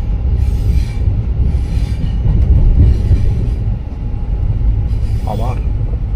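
A train rolling along the railway line, heavy low rumble of wheels and carriages with rhythmic clatter, sharp high wheel squeals and a voice speaking over the passing noise, loud and close.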